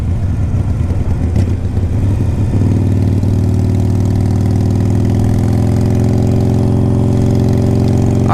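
A 2009 Harley Davidson 883 Sportster's V-twin engine runs close and loud, first revving roughly, then settling into a steady, throbbing low idle.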